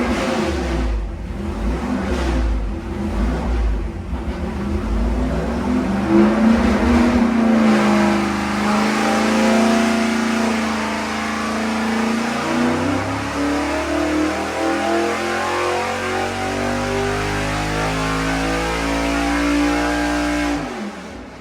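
A 434 cubic-inch small-block Chevy nitrous engine with a carburetor roars loudly on a dyno, revving and climbing steadily through a long continuous pull, alone and close.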